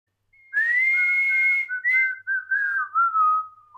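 A person whistles one wavering, sliding tone that breaks off a few times and drifts slowly downward. The whistle is clear and close, with no other sound behind it.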